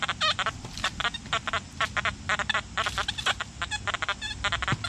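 An XP Deus metal detector in its normal program chatters with rapid, overlapping warbling beeps from iron noise, a busy stuttering stream of tones with no talking.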